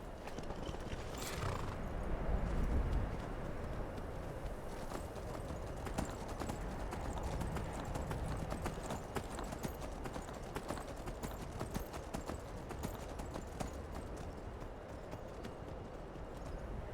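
Steady clip-clop of horse hooves trotting at an even pace in modded Skyrim, with a brief whinny early on and a faint synthetic game ambience underneath.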